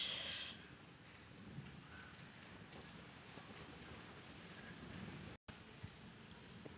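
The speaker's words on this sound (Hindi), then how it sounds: "बारिश आ रही है ना" Steady soft patter of rain with a low, rushing wash of noise and light wind buffeting, no voices, continuous throughout.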